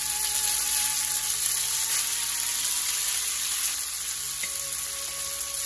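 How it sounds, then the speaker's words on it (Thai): Spaghetti stir-fried with bacon in a pan for a Roman-style carbonara, a loud continuous sizzle close up, with no voices over it. "ก็ผัดไปเรื่อยๆเนาะผัดกับเนี่ยเบคอนไปเรื่อย ๆ"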